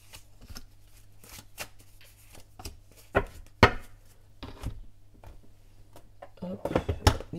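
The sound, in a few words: shuffling oracle cards to draw one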